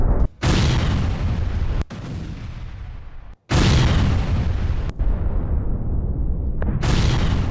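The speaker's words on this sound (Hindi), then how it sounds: "रूसी टैंक पर यूक्रेनी सेना ने बड़ा अटैक किया" Heavy explosions in a Ukrainian army attack on a Russian tank: several loud, sharp blasts, each followed by a long rumbling roar, spaced a few seconds apart.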